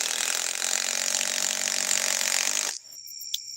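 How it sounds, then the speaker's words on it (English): A cheap, slow impact wrench whirs loudly and steadily for a few seconds while splitting wood, then cuts off abruptly, leaving a quiet background with a few faint high clicks. "It's an impact wrench. And a crappy one at that."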